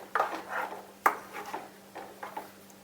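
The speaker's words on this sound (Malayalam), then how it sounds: "ഞാൻ ഇളക്കി കൊടുക്കുക." A spoon stirs jackfruit seed and drumstick leaf curry with ground coconut in a pot, giving several distinct clinks and scrapes against the pot in an uneven rhythm, close and fairly soft.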